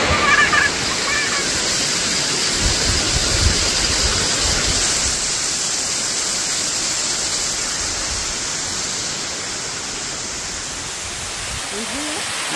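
Silver Waterfall (Thác Bạc) near Sapa, Vietnam: a steady, loud roar of falling water rushing continuously, with a brief faint voice near the start.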